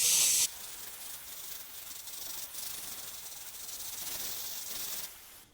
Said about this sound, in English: I'm going to coat that area with the Paynes Grey